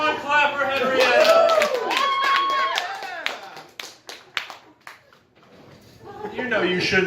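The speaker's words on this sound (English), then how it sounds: "Everyone clap for Henrietta." A small group of people clapping for Henrietta, a few uneven claps following speech, then a pause before voices return.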